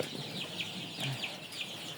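Fourteen-day-old broiler chickens in a poultry shed chirp and cluck softly in a steady chorus, several short calls repeating over a constant background hum.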